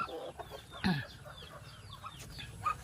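Poultry calls from a Philippine farm where a mother duck sits near a clutch of eggs, brief honking and clucking notes rising over soft background bird chatter, one louder call near the start.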